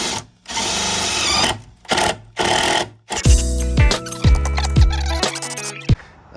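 A power drill drives screws into pallet chair cross members and a leg, with short high whirring bursts followed by deeper grinding pulls as screws seat, near and loud, in stop-start rhythm.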